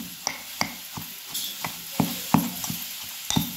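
Ambadi greens bhaji being mashed and stirred in a pan, with quick repeated scraping and pressing strokes about every third of a second over a soft sizzle, close up, no talking.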